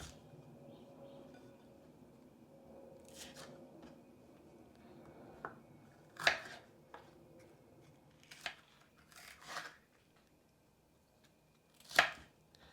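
A kitchen knife dicing onion on a chopping board, heard as sparse, crisp taps spaced several seconds apart with faint clinks in between, close up and fairly quiet.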